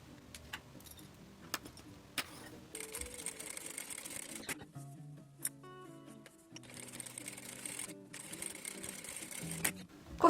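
A sewing machine stitches fabric with backstitching at a home atelier, running in several bursts of rapid whirring with short pauses and reversals between them, close and clear.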